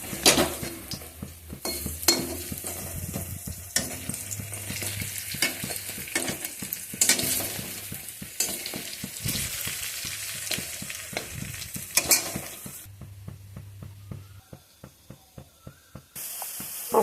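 Chopped tomato hitting hot oil with spices in a pan, a loud continuous sizzle and hiss with scraping stirs and utensil clinks, fading to quieter frying near the end.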